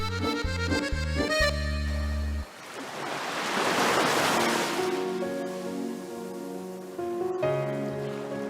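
Sea waves wash onto a seashore as a broad, rushing surge that swells and fades, following a stretch of loud music and with more music returning over the surf toward the end.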